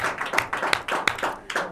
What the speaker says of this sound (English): You guys, give yourselves a big round of applause.